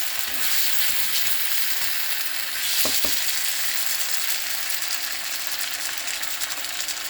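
White lamb karahi cooking in a pan, a continuous close hiss of sizzling with a couple of brief clicks of utensil contact partway through.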